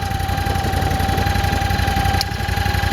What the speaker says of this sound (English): Quite a hefty engine, 35 horsepower.